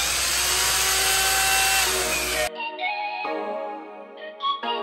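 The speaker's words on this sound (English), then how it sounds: "That's the GD0603 grinder. We can run this thing full blast, doesn't bend, actually runs really true." A GD0603 die grinder porting a 2JZ intake port runs loud at full speed with a harsh, high whine for about two and a half seconds, then cuts out, leaving quieter ringing tones as it spins down.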